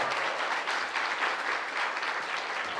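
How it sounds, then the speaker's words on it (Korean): An audience at a Gimpo election candidates' debate applauds after a closing statement. The steady, dense clapping holds evenly throughout at a moderate distance. "또 박수를 치시네요."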